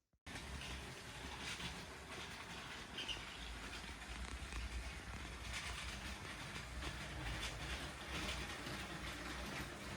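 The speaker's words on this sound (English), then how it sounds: "Maersk train, pulling just the two Maersk cargo cars" A LEGO Maersk train pulls two cargo cars along plastic track with a continuous rolling rumble and faint rhythmic clicking that holds steady throughout.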